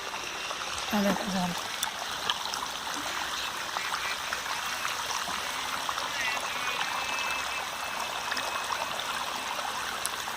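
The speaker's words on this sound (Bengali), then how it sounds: "এখন ট্যাঙ্কি পরিষ্কার করা হচ্ছে এইভাবে আমরা ট্যাঙ্কে পরিষ্কার করানো হয়" Water runs steadily while a household water tank is being cleaned, a continuous rushing stream with a brief splashy burst near the start and no talk.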